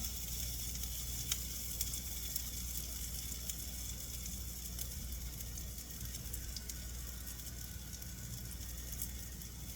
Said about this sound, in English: so we're going to let that fry for just a minute